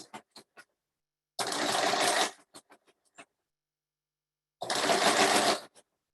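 A sewing machine stitching through a quilted hot pad runs in two loud, steady bursts of about a second each, separated by scattered clicks and taps of handling, with no talking.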